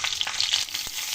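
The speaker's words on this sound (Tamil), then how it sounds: "நம்ம கடுகு ஆட் பண்ணிக்கலாம். கருவேப்பிலை," Mustard seeds and curry leaves hit hot oil for a black chickpea curry, giving a bright, close sizzle with crackling pops and one brief thud.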